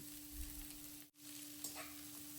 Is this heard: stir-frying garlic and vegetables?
yes